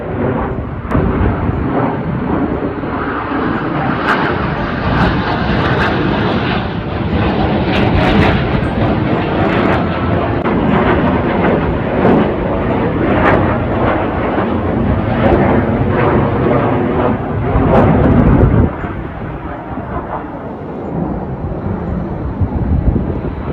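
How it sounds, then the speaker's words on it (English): Eurofighter jets from nearby RAF Coningsby fly training exercises overhead. Their loud, sustained roar rumbles on without a break and eases slightly toward the end. "the Eurofighters from RAF Coningsby close by were on training exercises"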